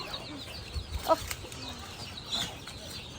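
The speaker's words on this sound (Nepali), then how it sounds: "भाग्यो कुखुरा त जान्छ" Chickens at a poultry market give a few short, faint clucks against a low background murmur, with one brief burst standing out near the middle.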